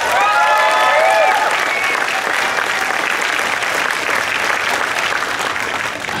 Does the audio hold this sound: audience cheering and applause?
yes